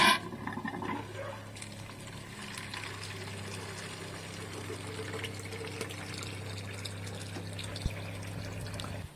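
Water runs steadily from a faucet on a Toyota Tacoma camping setup, a soft continuous splashing and trickle under a low hum, fairly quiet throughout.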